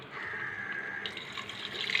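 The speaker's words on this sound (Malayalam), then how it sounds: "വെള്ളം ഒഴിക്കുക" A continuous stream of water pours steadily into a pan of chicken curry with turmeric, close and fairly loud, with no talking.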